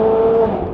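A Bugatti Chiron sounds a loud, close engine note that holds a steady tone, then drops and shifts abruptly partway through during a downshift and acceleration.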